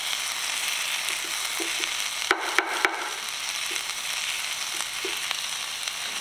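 Garlic frying in a pan sizzles steadily with a bright, hissing crackle throughout, broken by a few sharper clinks and scrapes near the middle, like stirring against the pan.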